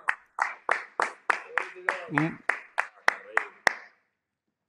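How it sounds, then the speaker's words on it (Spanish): An audience claps in unison, about a dozen sharp, evenly spaced claps over a few seconds, with a voice speaking briefly in the middle. "Aplauso, aplauso."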